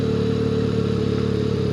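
A 2024 Benelli Leoncino 500 Trail motorcycle engine idles steadily, a close, loud, even throb with a busy mechanical clatter and no voices.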